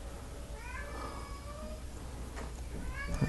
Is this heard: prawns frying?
no